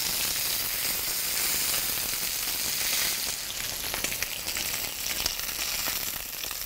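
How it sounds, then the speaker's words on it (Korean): Steak searing in a hot grill pan, a loud, steady broadband sizzle that runs continuously and close up, with faint crackles spiking through the hiss toward the end and no voices. "저는 한면 그릴 적이 아주 진하게 날 때까지 두고, 그 다음에 뒤집어서 또 그렇게 굽도록 할게요."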